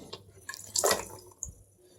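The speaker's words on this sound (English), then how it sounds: "there might be a little bit of water spilling" Water spilling and dripping from a reverse osmosis filter housing during a filter swap, a short splash followed by a few faint drips in a quiet room.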